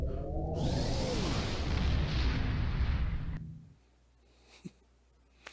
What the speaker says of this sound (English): Did somebody just go into warp and explode?